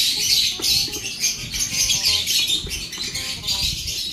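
Many birds chirp and tweet inside a bird shop, a dense, busy chorus of high calls and squawks close by, continuing throughout without speech.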